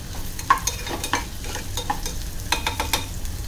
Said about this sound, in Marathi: आता टोमॅटो शिजेपर्यंत आपल्याला परतून घ्यायचं.